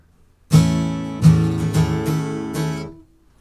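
A major chord strummed on acoustic guitar four times in a steady, loud rhythm, each ringing chord cut short by the next, the last one left to decay briefly.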